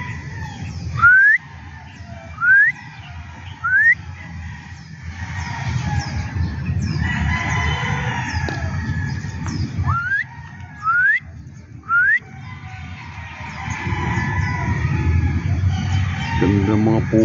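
Birds call among trees: short, rising whistled notes repeat every second or so, then pause and resume, over a constant low outdoor rumble.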